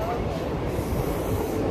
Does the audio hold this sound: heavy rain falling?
no